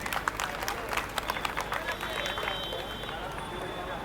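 Steady applause from a large crowd at an outdoor political rally, a dense patter of clapping with scattered sharper claps and faint crowd murmur, continuing evenly throughout.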